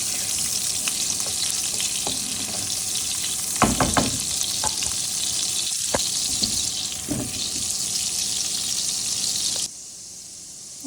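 Just under half a cup of butter melts with a little oil in a pan, giving a loud, steady, close sizzle broken by a few spoon taps and scrapes before it suddenly cuts out.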